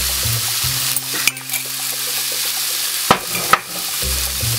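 An egg sizzles loudly in a pan as it fries and is scrambled, with a few sharp scrapes and taps of a utensil against the pan and no talking.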